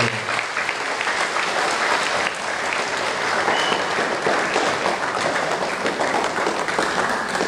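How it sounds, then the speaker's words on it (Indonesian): A church congregation applauds steadily at a parish Christmas Day celebration, dense clapping filling the space evenly throughout without letup. "Kita berikan aplaus dulu."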